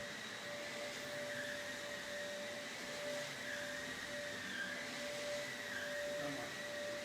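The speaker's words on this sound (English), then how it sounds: "there's the vacuum" Vacuum cleaner running in a house powered by solar and a Tesla Powerwall battery, a steady faint whine with a constant tonal hum heard from a distance, no talking.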